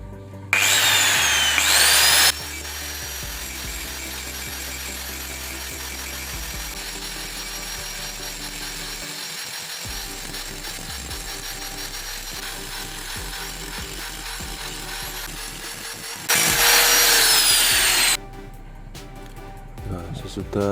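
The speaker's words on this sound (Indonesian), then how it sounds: "kita sediakan mesin gerinda untuk membuat bentuk pola alatnya ya teman-teman. Ini saya menggunakan batu gerinda yang tebal ya." A bench grinder fitted with a thick grinding stone shapes a metal tool, giving a steady, loud grinding whine. Harsher bursts near the start and again toward the end suggest heavier contact with the workpiece, and talk runs under it.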